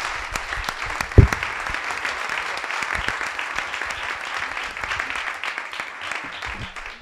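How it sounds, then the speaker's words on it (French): Audience applause for a startup pitch at a French pitch night, a steady wash of many hands clapping at moderate loudness, continuous for several seconds with no talk over it. "voilà, donc on l'applaudit."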